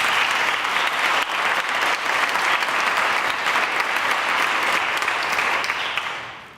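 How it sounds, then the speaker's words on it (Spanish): Warm, sustained applause from a graduation crowd for class delegate Silvia at a Master's in Microbiology ceremony, steady clapping for several seconds before tapering off at the end. "quiero que le demos un fuerte aplauso"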